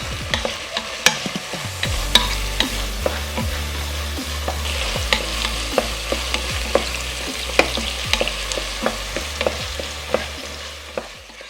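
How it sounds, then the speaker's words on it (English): A Bolognese sauce base is being sautéed and stirred with salt in a pot: a steady soft sizzle under repeated scraping and knocking strokes of a spoon against the pot, with no voices. "and give it a good saute."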